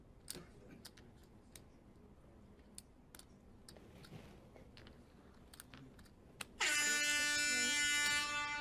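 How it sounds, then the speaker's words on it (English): A poker tournament broadcast alert chime at a final table championship in Sochi rings out loudly and sustained near the end, following a stretch of quiet clicks and chip taps. "That noise in your ear holes is a 4-bet alert."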